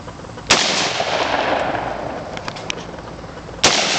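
Two sharp, loud AR-15 rifle shots crack out about three seconds apart, each followed by a noisy ringing decay outdoors.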